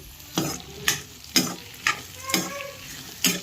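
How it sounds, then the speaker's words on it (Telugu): Bitter gourd and tomatoes sizzle in a frying pan while a spoon stirs them in a steady rhythm, giving about seven scraping strokes over a soft, continuous crackle. "ఇప్పుడు కాకరకాయ వేసిన తర్వాత కాకరకాయతో పాటు అది కూడా ఉడుకుతుంది"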